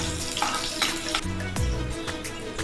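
Onions sizzle and fry in hot oil in a pan, a steady crackling hiss. Occasional scraping stir sounds and a short clatter come through near the middle.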